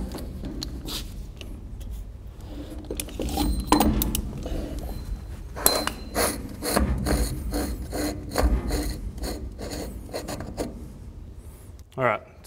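A trailer axle cap is worked off the wheel hub with scraping, knocking and ratcheting metal sounds in irregular bursts, close up and fairly quiet.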